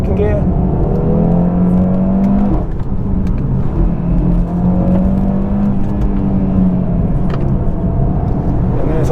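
A 400 HP Audi RS3 pulls hard in second gear on a road in Italy, its engine droning loudly and steadily with rising harmonic tones throughout, while people talk over it from inside the car.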